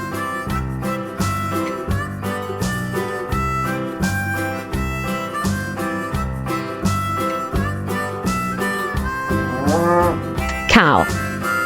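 A cow moos over a steady, rhythmic music bed on a farm, its low drawn-out call rising into a loud, strained bellow near the end, with no talking.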